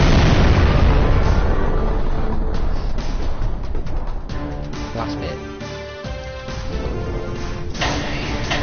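A big cannon in the video game Jak and Daxter: The Precursor Legacy fires and explodes in loud, dense booms and bursts that roll on continuously, with a voice speaking partly over the din.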